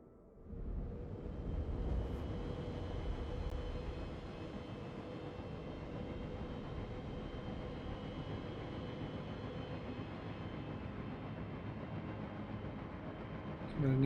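Spaceship engines climb in the video game Star Citizen with a loud, sustained roar and whine that swells in at the start and holds steady throughout, no speech over it.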